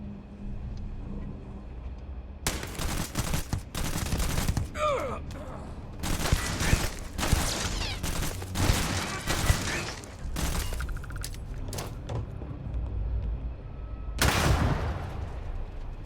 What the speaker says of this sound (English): Alright, I'm shooting.